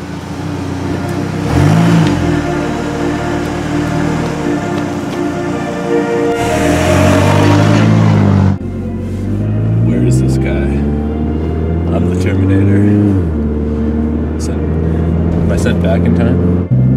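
A stolen car's engine revs hard and pulls away, with repeated rising and falling revs and gear changes that are loud and close, and voices talk over parts of it.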